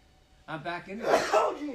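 A sneeze breaks out among people chatting at a fan Q&A and autograph session, a short burst close to the mic with talk on both sides of it.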